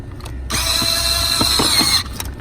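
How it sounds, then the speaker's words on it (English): Self-tapping Phillips head screw being driven out of a car body with a power driver, a loud, close whirring burst of about a second and a half, framed by a few sharp clicks and knocks before and after. "so let's unscrew that shit right here"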